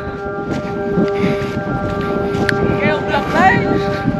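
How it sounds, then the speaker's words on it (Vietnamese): Strong wind rushing past the microphone while a flute kite flies, a loud continuous blustery roar that swells and fades, with a thin whistling tone and some background voices. "Các bạn có thể nghe thấy âm thanh của gió"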